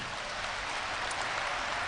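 A church congregation at a national prayer breakfast claps together, a dense steady wash of applause filling the room without pause for a couple of seconds.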